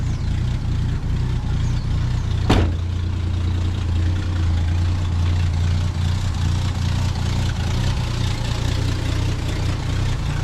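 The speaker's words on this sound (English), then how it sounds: "She just fired up and we had it full choke." A 1965 Ford Falcon engine idles on full choke just after starting, with a loud, steady low rumble and one sharp click partway through.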